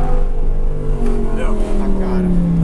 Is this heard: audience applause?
no